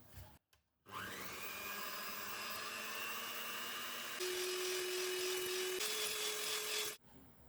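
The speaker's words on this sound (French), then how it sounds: "on va fouetter nos œufs avec notre sucre jusqu'à ce qu'ils doublent de volume" Electric mixer whisking eggs with sugar for a chocolate birthday cake, a steady loud motor whine that runs without a break for about six seconds, its pitch stepping up slightly midway before it cuts off.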